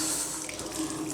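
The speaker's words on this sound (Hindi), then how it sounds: "तो ऐसा उन्होंने अपना मुंह धोया है" Chilled water splashes and runs from a tap as someone washes their face in a shared room, a close, steady watery rush with no talk.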